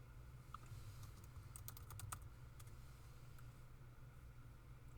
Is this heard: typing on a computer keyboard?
yes